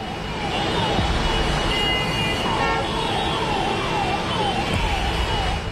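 Dense road traffic in a flooded Mumbai jam, a steady loud roar of engines with a wavering horn or siren tone repeating over it throughout.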